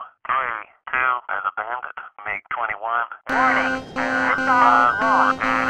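Warning alarm sounding in the cockpit of an F-22 in the flight sim F-22 Total Air War, a loud steady electronic tone pulsing in repeated beeps after a stretch of radio-style voice chatter.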